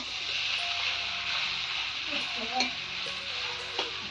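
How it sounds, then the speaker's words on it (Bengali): Taro stolons (kochur loti) frying in a pan, a continuous close hiss of sizzling with faint scrapes and a couple of light utensil knocks against the pot. "ওই যে কচুর লতা আমি রান্না করছি এখন"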